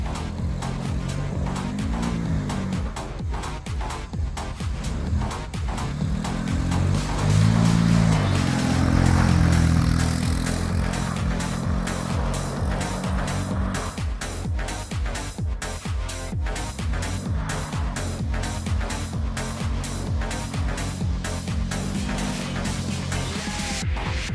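A van out on a shakedown drive the day before a long road trip: steady engine and road noise throughout, swelling louder for a stretch midway, with rhythmic thumps and rumble over a continuous low drone, no voices.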